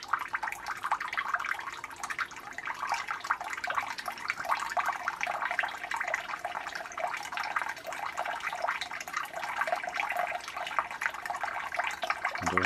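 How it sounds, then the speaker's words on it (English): Water drips and trickles steadily from a toilet cistern's ball cock valve after its diaphragm was replaced, a continuous close, even patter without a break. "Yep, we're dripping now, so you can turn the hot water off downstairs."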